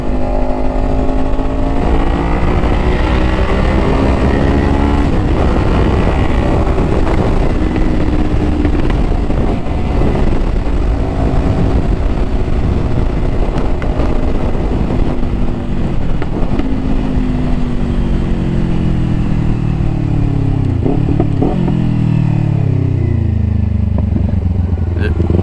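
A Kawasaki Ninja 500 motorcycle being ridden, its engine droning loudly and continuously as the revs rise and fall through gear changes, with heavy wind rush throughout.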